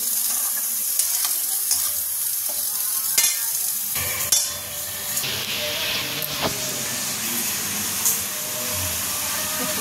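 Vegetables, pointed gourd for a vegetarian curd dish, sizzle and hiss steadily in a hot pan while being stirred, with occasional scraping clinks over continuous frying noise and no talking.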